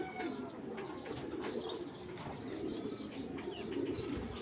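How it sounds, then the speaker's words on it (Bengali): A female Bezi pigeon coos softly, low repeated rolling coos with faint chirps of other birds nearby, close and moderately quiet, without talk. "এটা মাদি কবুতর"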